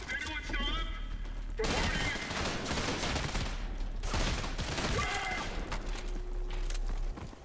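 Heavy gunfire from a larger weapon in the Trepang2 first-person shooter, dense rapid bursts of loud shots and crashing impacts in repeated volleys, with someone talking over parts of it.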